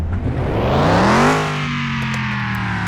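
A car in Car Mechanic Simulator 2021 starts up and revs, the engine note climbing in pitch to a loud peak, then dropping and settling into a steady rough idle.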